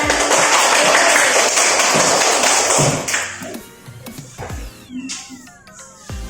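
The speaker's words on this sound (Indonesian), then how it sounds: "Tepuk tangan dulu untuk kita semua." Students in a school classroom applaud together, a loud dense burst of clapping for about three seconds that thins into scattered claps and fades, with a few sharp knocks and squeaky tones near the end.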